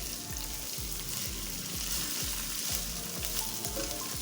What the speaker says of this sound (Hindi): इसको थोड़ा सा हमने सौटे करना है, उसके बाद इसमें चिकन डालेंगे